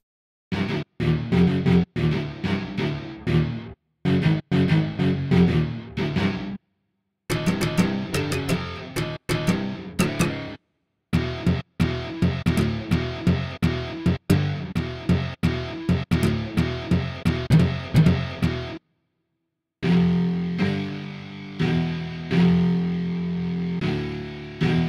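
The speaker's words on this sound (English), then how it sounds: "Let's add some metal distortion." A heavily distorted cello with a metal distortion effect plays choppy, rhythmic phrases, broken by brief silences, with a gritty, metal-like crunch.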